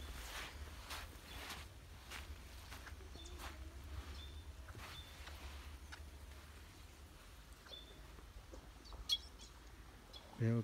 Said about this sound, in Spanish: Veo que hasta un pájaro ya está bañando.